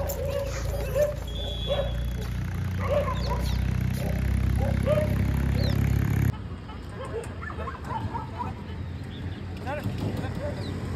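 A dog whimpering and giving small yips, mixed with a person talking nearby and a motorcycle's engine hum in the background; the engine noise drops away partway through while the whines and speech continue.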